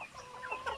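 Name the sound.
native chickens clucking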